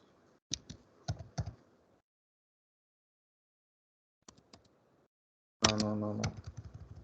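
Keys tapped on a computer keyboard in short clusters of clicks, with a quiet pause between bursts, followed by a person talking near the microphone.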